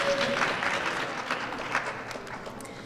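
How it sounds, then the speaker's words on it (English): Applause from guests at a Native American Heritage Month reception, a moderate, fairly distant wash of clapping that fades slightly over a few seconds. "give a round of applause."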